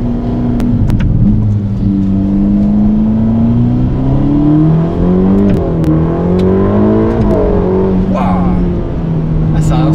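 A 620 hp Ferrari Roma accelerates hard, its engine revving with a rising pitch through several gear changes, loud and close, while voices talk over it.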